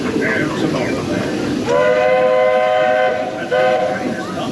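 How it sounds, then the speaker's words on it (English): Walt Disney World Railroad train braking to a stop at a station, continuous rumbling rail noise with a long squealing brake tone that fades and then returns briefly, close and loud. "And the train has come to a complete stop."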